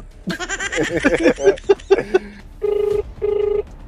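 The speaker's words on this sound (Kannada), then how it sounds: "ಈಗ ಫೋನ್ ಎತ್ತುತ್ತಾ ಇಲ್ಲ" On an unanswered prank phone call, two long, steady ringing tones sound through the handset after a burst of jumbled voice and music sounds.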